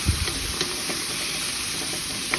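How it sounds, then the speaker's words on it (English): Pork sizzles and fries in a hot pan, a continuous crackling hiss with a few small pops and stirring clicks, no voices. "Let that sizzle."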